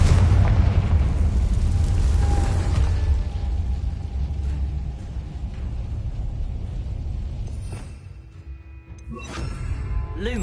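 Confringo fire spell explosions in Hogwarts Legacy on PS5: a heavy, sustained booming roar that rumbles on for several seconds, thins out, then flares again with sharper crackling bursts near the end.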